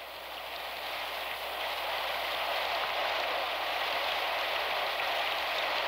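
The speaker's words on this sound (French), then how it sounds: "Ma pauvre petite Claire, perdue sous cette pluie diluvienne, elle doit être trempée de la tête aux pieds" Heavy rain pours down in a constant, dense hiss that swells slightly and holds steady, with no voices.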